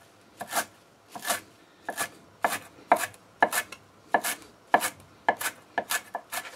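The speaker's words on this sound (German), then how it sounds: "Hacken nochmal alles durch." A knife chops parsley for chimichurri on a board in quick, regular strokes, about a dozen crisp close thuds that speed up slightly toward the end, with no talking.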